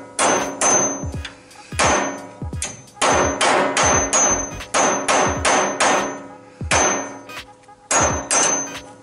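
A hammer strikes repeatedly in Roblox, giving loud, sharp metallic clangs in quick pairs and clusters with ringing tails, steady and close throughout, with no talk.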